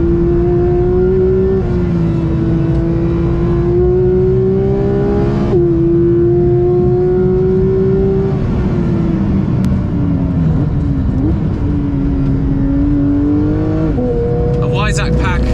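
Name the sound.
Porsche 992 GT3 engine revving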